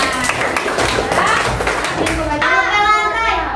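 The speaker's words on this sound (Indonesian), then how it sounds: "Tepuk tangan dulu untuk kita semua." Children in a classroom clap together, a loud burst of hand claps mixed with excited kids' voices and chatter over a few seconds.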